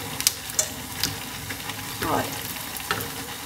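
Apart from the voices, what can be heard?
bacon frying in a pan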